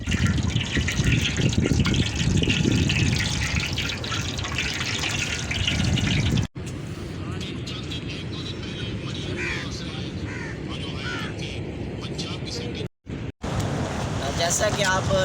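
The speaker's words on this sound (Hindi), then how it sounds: "दरिया का पानी जो है इतना तेज़ हो चुका है" Fast-flowing river water rushing loudly at Tosa Sharif, a constant roaring gush heard up close with wind and voices mixed in, briefly cut off twice near the end.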